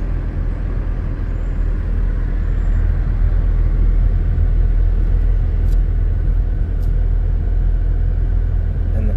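A car cruises along a road through a state park near Schellsburg, Pennsylvania, with a steady loud low rumble of engine and tires from inside the cabin and no speech.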